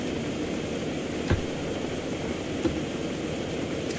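A helicopter in Arma 2 gameplay, a steady low rotor and turbine hum droning throughout at moderate level, with a couple of brief soft thumps; no voices.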